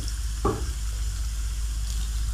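Vegetables and chicken sauté in a pan for fried rice, giving a steady low sizzle with one brief stirring scrape early on.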